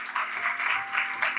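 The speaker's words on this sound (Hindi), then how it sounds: "ताली बजा सकते हैं परमेश्वर के लिए" A church congregation claps together in a short burst of steady, close applause that fills the room.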